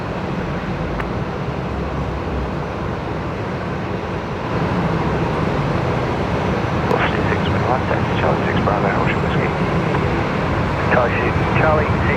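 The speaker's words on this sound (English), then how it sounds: "Qantas 15's rolling actually." A Qantas airliner rolls for takeoff at Brisbane Airport, its engines a steady, broad roar that grows slightly louder midway, with people talking over the noise.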